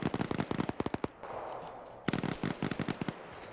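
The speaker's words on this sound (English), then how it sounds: "There's a firefight going on near us and it's not us." Rapid bursts of video game gunfire crackle in a firefight, clustered volleys of sharp shots that pause for about a second, then resume in loud repeated strings.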